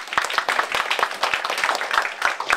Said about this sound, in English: just help me to give a round of applause to Prof. Tan,